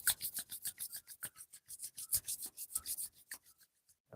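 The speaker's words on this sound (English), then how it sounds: "rubbing the hands again." Palms of the hands rub together briskly during chair yoga on an outdoor terrace. The dry, close swishing strokes come in a quick, steady rhythm and slow down near the end.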